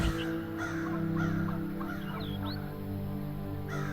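Crow cawing as a sound effect in a horror story, a series of hoarse caws repeated several times over a droning musical background, fairly close and clear.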